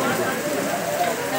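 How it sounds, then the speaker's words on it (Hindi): Rain falls steadily outdoors, giving a dense, even patter close by, with people's voices faintly mixed in. "तो बारिश थोड़ी सी कम हो गई है"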